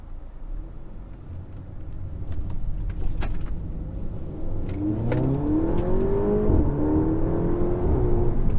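An APR Stage 2 Audi A3 engine with a Milltek non-resonated cat-back exhaust idles and then revs up, the exhaust note rising and growling steadily louder toward the end, with no one speaking.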